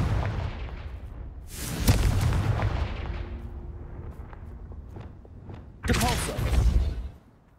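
A Confringo fire spell blasts in Hogwarts Legacy, giving two loud, booming explosive bursts with crackling debris, separated by a quieter stretch of rumbling game ambience and light footstep-like noises.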